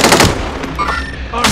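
Rapid automatic gunfire from Call of Duty Warzone resurgence quads, loud bursts crackling at the start and again at the end, with a lull of quieter in-game noise and faint tonal effects between them.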